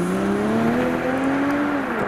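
A Toyota Supra performance car pulls away from a car show, its engine a loud, steady drone that rises slightly in pitch as it drives off, heard alone without voices.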